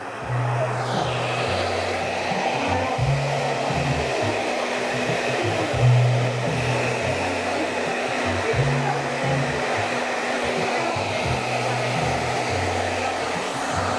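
A hair dryer blows steadily and loudly up close while drying hair in a barbershop, a continuous airy roar with a low hum, running alone throughout without talk.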